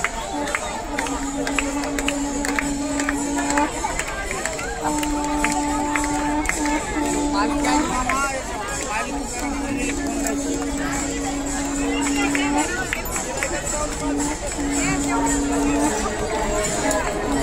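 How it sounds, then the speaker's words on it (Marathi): A huge, dense crowd at the Sant Dnyaneshwar Maharaj samadhi festival procession, a continuous babble of many voices and shuffling feet, with a sustained chanted or sung drone rising repeatedly above it and scattered claps and shouts. "पहा किती भयानक गर्दी आहे"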